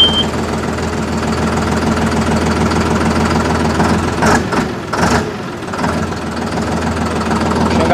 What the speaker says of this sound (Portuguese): Vamos dar a partida no bicho, quando escutar o ronquinho do motor